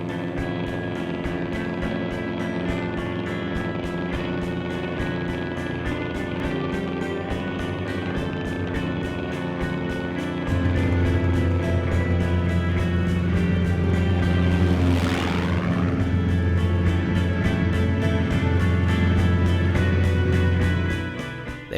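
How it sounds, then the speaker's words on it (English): Racing aircraft at an air race roaring along a runway, several engines droning together in a loud, steady harmonic hum; a fast machine sweeps past close by midway, and a deeper engine tone joins and holds until the end. "there were times when there were as many as 6 aircraft speeding down the runway at the same time"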